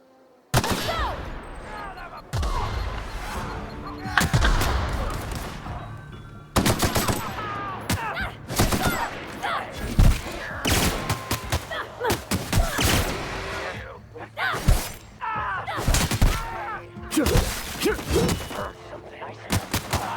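Rapid bursts of heavy gunfire and cannon blasts in The Outer Worlds, a video game, come in repeated loud volleys over twenty seconds, with a player talking between them.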